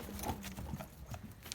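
A pack horse walks at a quiet jig jog, hooves clip-clopping in an uneven rhythm while its gear gives a light rattle; faint and fairly close.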